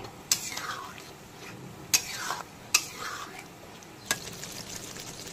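Spice paste gets stirred and fried in a pan, with four sharp clinks of the spoon against the metal over a soft continuous sizzle.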